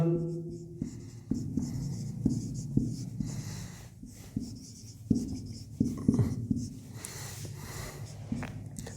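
Physics equations being handwritten on paper, with close, scratchy pen strokes in short irregular bursts and small taps between words, steady and quiet with no talk.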